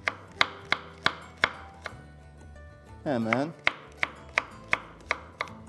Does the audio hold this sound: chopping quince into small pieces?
yes